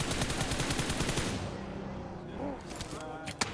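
Rapid automatic gunfire in the PUBG Mobile battle royale game during an esports tournament broadcast, a loud burst of fast shots that stops midway, followed by quieter scattered sounds and a single sharp shot near the end.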